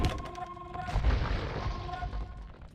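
Trebuchets in a medieval strategy game fire amid battle noise, with deep booms and impacts rolling over a continuous din.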